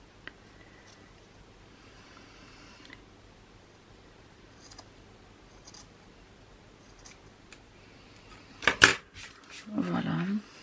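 Scissors snipping lace for a beginner scrapbook album, a short burst of sharp close cuts near the end after mostly quiet handling noises.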